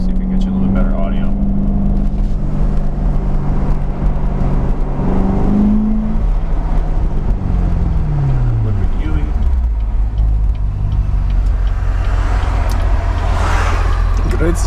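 A 2017 Corvette Grand Sport engine drones while driving with the windows down, a steady low rumble that rises and falls in pitch through gear changes, mixed with wind noise and someone talking over it.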